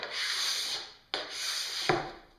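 Scraper drawn firmly across a waxed snowboard to strip off excess wax, two long rasping strokes close up with a brief pause between them and a sharper scrape near the end, no talking.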